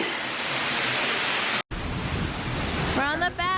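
A steady, loud roar of rushing falling water fills the space up close, from behind an Icelandic waterfall, with a voice briefly speaking near the end.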